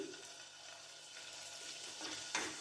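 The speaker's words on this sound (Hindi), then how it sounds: "इसको अच्छे से सौते करते हैं इस तरीके से" A garlic-ginger cube sizzles steadily in about three tablespoons of hot oil in a pan, with a brief stir or clink near the end.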